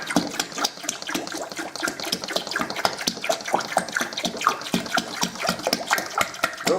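Homemade Sauvignon Blanc wine poured from a freshly opened container, splashing steadily with continuous liquid gurgling throughout, close and fairly loud.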